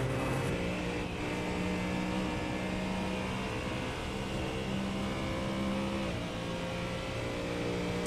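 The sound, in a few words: V8 race car engine revving, from a racing video game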